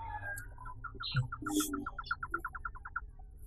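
Small bird chirps in a quick, evenly spaced series of bright tweets in the background of an outdoor scene, with a few other faint calls and low rumble underneath.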